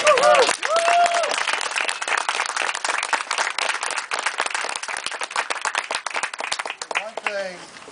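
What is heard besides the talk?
audience cheering and applauding for volunteers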